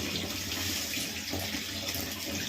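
Cold water pours steadily into a pot of fried masoor lentils for bhuna khichuri, giving a continuous splashing rush.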